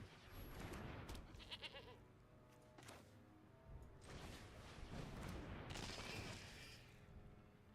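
Goat bleats from a creature card being played in Magic: The Gathering Arena, a few short bleating calls over the game's background music and effects, moderately loud throughout.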